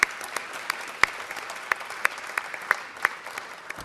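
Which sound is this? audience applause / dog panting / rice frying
audience applause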